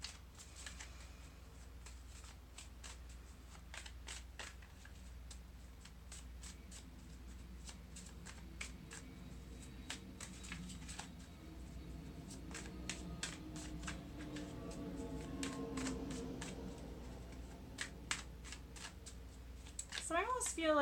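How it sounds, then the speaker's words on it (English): Repeated crisp tarot-card shuffling riffles and soft slaps, fairly close, under a faint low hum, with a brief burst of higher clatter near the end. "So I'm just shuffling your cards for October."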